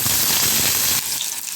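Three large chopped onions hit a spoonful of hot oil in a pan and sizzle loudly and steadily, the hiss easing a little partway through and continuing alone.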